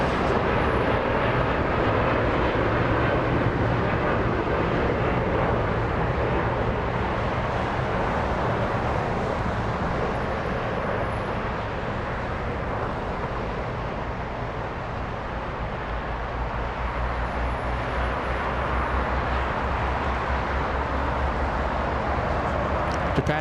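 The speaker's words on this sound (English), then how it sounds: "Japan Airlines out of here, flying back to Japan." Japan Airlines airliner taking off at Los Angeles International Airport, a loud, steady broadband engine roar that holds strong throughout with no talking over it.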